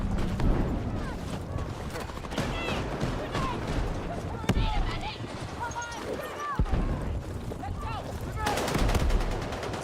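Gunshots in Battlefield 6 ring out in rapid, repeated cracks over a constant battlefield din, with a voice talking over the action throughout.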